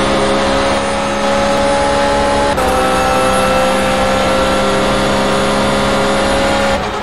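GT race cars racing at Virginia International Raceway, including a McLaren and Porsches, with one engine heard on board, loud and droning at steady high revs and shifting pitch at gear changes near the start and end.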